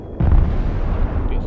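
An airstrike explosion in the modern military strategy game Broken Arrow, a sudden heavy boom with a sustained rumbling tail, loud and close, with faint game radio chatter mixed in near the end.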